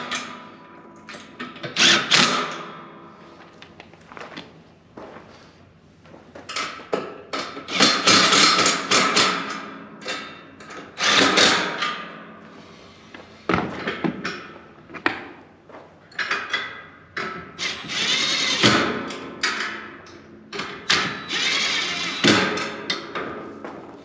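DeWalt impact gun driving 10 mm bolts on Can-Am Defender HD9 accessory brackets, repeated loud rattling hammering bursts of a few seconds each with short pauses between, close up.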